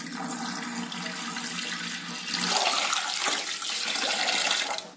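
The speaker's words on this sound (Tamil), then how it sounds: "அரிசி கழுவும் போது நல்ல தண்ணி விட்டு நல்லா கையில பிசைஞ்சு 4 தடவை கழுவணுங்க" Raw rice being washed by hand in a bowl of water, kneaded and rinsed to clear dust and husk, for millet idli and dosa batter; steady close sloshing and splashing that grows louder and rougher halfway through, with no talking.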